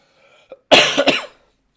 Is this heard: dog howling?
no